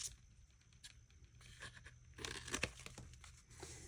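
Paper being snipped and torn as stamps are cut from a used paper envelope, close crinkling and rustling bursts with small scissor snips, quiet and alone.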